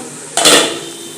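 A metal lid is lifted off a pan of egg and cabbage cooking on a low flame, a single sharp clatter followed by a brief rush of hissing steam that fades.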